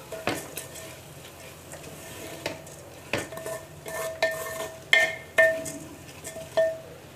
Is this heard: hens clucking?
no